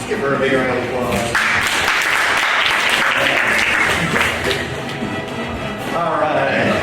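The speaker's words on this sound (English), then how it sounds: "Let's give her a big round of applause." An audience at a hypnotist show bursts into loud, sustained applause and cheering lasting several seconds, with voices calling out over the clapping.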